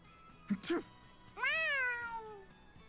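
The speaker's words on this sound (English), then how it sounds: "We've caught an awful lot of cats." Two cat meows from the Tales of Xillia 2 video game, a short rising one followed by a longer, drawn-out falling meow, clear and close, with no talk over them.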